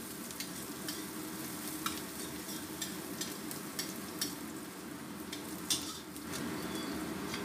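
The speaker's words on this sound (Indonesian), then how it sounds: "Kita tumis sampai harum baunya ya." Shallots and garlic stir-fried for capcay, a soft steady sizzle punctuated by regular scraping strokes of a spatula against the pan, fairly quiet and close, without speech.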